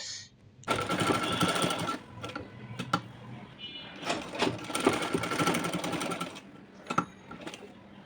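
A sewing machine stitches a zipper onto a kameez in loud rapid bursts, running for a couple of seconds at a time with short pauses and clicks between runs.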